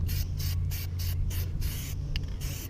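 Spray paint hisses from an aerosol can onto a car rim in repeated short bursts over a steady low hum, close and continuous.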